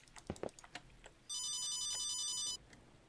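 Cell phone ringtone in an office-job horror video game, one steady electronic ring burst lasting over a second. Scattered keyboard taps and clicks come before it, with soft background hiss.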